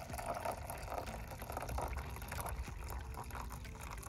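Liquid pours from a vessel during gold-filled scrap refining to strip off copper, a steady continuous wash of splashing and gushing that stays fairly loud throughout with no talk.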